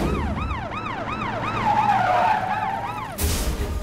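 An ambulance siren wails in a Hindi film scene, looping loud rising-and-falling sweeps with no talk, then a burst of broadband noise near the end.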